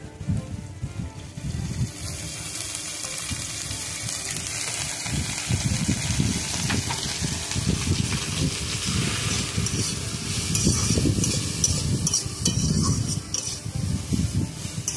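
Prawns and figs sizzling in mustard oil in a pan while being stirred, a steady crackling fry with repeated scraping and stirring strokes, close and continuous with no talk.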